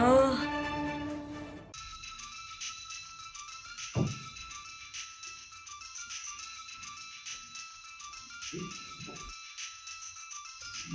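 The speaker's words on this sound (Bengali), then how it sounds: "ফোন করছে" An incoming call sets a phone ringing with a steady melodic ringtone that runs through most of the clip after a short burst of music, with a few faint knocks and thumps underneath.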